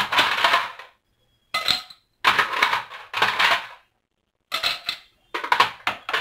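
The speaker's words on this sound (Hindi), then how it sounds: "उसके लिए फिर से एक ग्लास लेंगे, उसमें कुछ आइस क्यूब डालेंगे" Ice cubes dropped into a glass while making an apple mocktail clatter in six separate bursts of bright clinking and rattling, close and crisp, with short silences between them and no talk.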